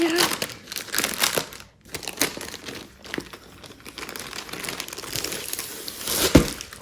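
A plastic bag printed with the Diamond Art Club logo crinkles and rustles loudly up close as it is opened and pulled away, in irregular bursts with short pauses between them.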